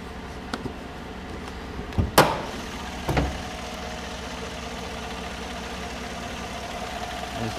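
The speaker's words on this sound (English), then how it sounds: "There's that nice engine." A 2014 Chevy Silverado Z71 4x4 engine idles steadily with the hood open, a low, even hum close by, broken by a few sharp clunks and a metallic bang like the hood or a door being handled.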